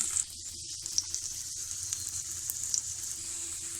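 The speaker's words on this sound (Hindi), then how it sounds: "तो अब ये जो है एक साइड से पकेगा, अच्छे से पक जाए तो फिर इसको पलट देंगे हम दूसरी साइड से।" Mooli (radish) paratha cooking on a hot griddle, a steady close sizzle and crackle of frying dough running throughout with small pops, no talking.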